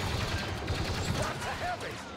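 Blaster gunfire rattles in rapid, overlapping bursts during a Star Wars Battlefront 2 battle on Jakku, steady and fairly distant under a constant din of combat.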